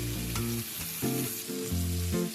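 Thin-cut potato strips and onions fry together in oil, a steady sizzle running beneath stepped melodic tones that rise and fall in short phrases.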